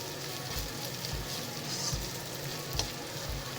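Crushed ginger and garlic sizzle steadily in a hot pan for a tofu and spinach curry, a continuous close frying hiss with a few soft stirring bumps and no talk.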